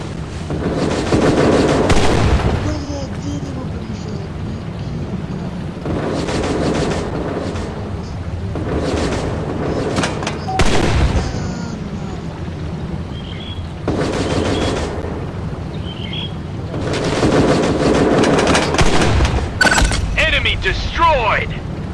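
Tank cannon shots boom in the tank battle game Tank Legion, a few heavy blasts spaced several seconds apart amid rumbling engine noise and a voice calling out in between.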